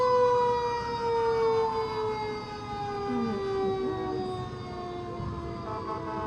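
An emergency vehicle siren wails at an Independence Day parade in Arlington, its tone sweeping and wavering continuously at moderate distance over a low rumble of crowd and traffic.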